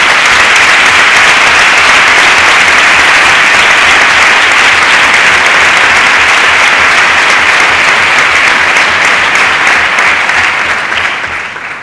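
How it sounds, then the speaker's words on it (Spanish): Loud, dense applause from a large audience at an academic year closing ceremony honours parents and families, holding steady for about eleven seconds before tapering slightly at the end. "y para ellos quiero un aplauso."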